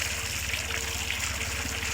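A 12-volt boat pump sits in a bucket, pulling out water drawn from an artesian spring for off-grid hauling. It makes a steady, continuous rush of flowing water over a low motor hum, close and unbroken throughout.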